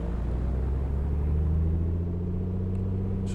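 A Piper Comanche's engine and propeller in a flight simulator settle into a new RPM, a steady droning hum with low tonal lines that shift slightly in pitch, continuous and fairly close.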